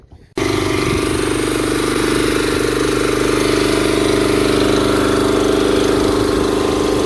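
A Volkswagen Corrado with a swapped-in Honda K-series engine cranks and catches, then settles into a loud, steady idle with an even, throbbing rumble.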